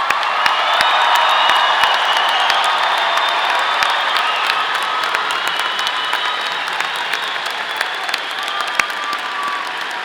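Audience at a Colorado State University College of Natural Sciences commencement ceremony applauding graduates: steady, sustained clapping from a large crowd with scattered cheers and a few whoops, continuing evenly throughout.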